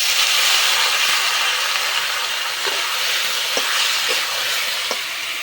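Water splashed into a pan of frying potato curry coated in sesame seeds, setting off a loud, steady sizzle and hiss with a few faint scraping clicks, and no one talking.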